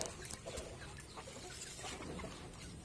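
Rhode Island Red backyard chickens cluck softly and steadily at close range, a low scattered flock murmur with no voices over it.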